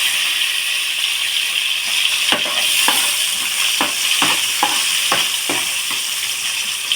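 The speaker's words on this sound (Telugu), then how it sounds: "ఇప్పుడు ఉల్లిపాయ ముక్కలు వేసేసుకుందాం" Onion pieces frying in oil for a jilebi fish curry, a loud continuous sizzle broken by a series of sharp spatula scrapes and taps at a steady stirring rhythm.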